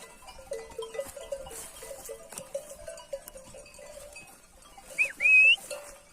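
Several sheep bleat at a distance on a hillside pasture over faint jingling bells and rustling, with a sharp whistle near the end.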